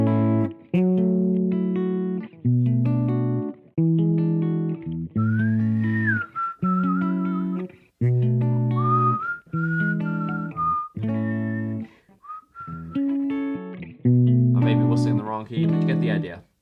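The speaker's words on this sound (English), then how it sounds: "this 1, 6, 2, 5, if I play it, it'll sound like this." A 1-6-2-5 jazz chord progression from Super Mario Sunshine music, played in repeating rhythmic chord stabs with a higher melody line weaving over it, steady and close.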